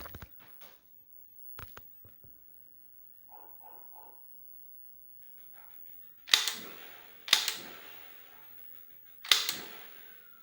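A light gun fires at a retro video game on a CRT TV from about 2.5 meters away, giving scattered small clicks and chirps followed by three loud, sharp electronic shot bursts spaced about a second apart, with no talk.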